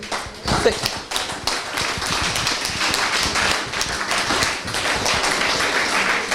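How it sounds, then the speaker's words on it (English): Audience applause for volunteers at a karting WA presentation ceremony, a dense steady clapping from a crowd filling the whole stretch, with faint voices mixed in. "give all those volunteers in our sport a huge round of applause"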